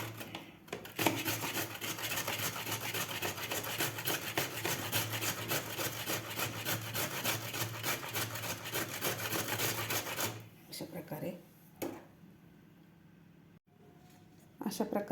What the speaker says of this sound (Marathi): अशा प्रकारे आपल्याला सगळे गाजर खिसून घ्यायचे आहेत.